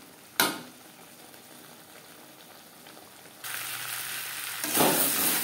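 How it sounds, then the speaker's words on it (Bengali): Potatoes frying with spices in a pan, a low steady sizzle with a sharp clatter near the start and louder bursts of hissing toward the end as the pan heats up. "তিন 4 মিনিট মশলার সাথে আলু বেশ ভালো করে কষিয়ে নেব।"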